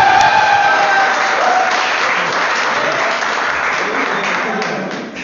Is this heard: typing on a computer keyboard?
no